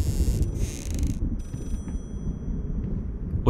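Telephone ringing in the horror game Layers of Fear, two short bright ringing bursts close together over a low, rumbling background ambience, with no voices.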